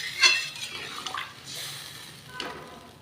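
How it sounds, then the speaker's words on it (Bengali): Hot water is poured into a cooking pot of catla fish curry with new potatoes and tomatoes, making short splashing pours and light metallic clinks close by. "এবারে আমি গরম জল দিয়ে দেব।"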